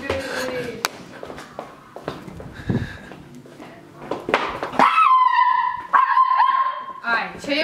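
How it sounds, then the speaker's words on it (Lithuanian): A dog barks and yips repeatedly indoors during a gift exchange, with sharp, close barks and a few whimpers mixed among people talking. "Tylėk, šunė, mes filmuojam!"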